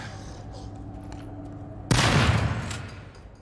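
Shotgun fire in the horror video game Daymare 1998: one sudden, loud blast over a low game ambience, followed by a decaying rumble and echo.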